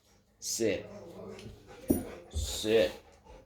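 A puppy whimpers and pants close by in a quiet room, with a few soft whining cries and breathy sounds spread over a few seconds.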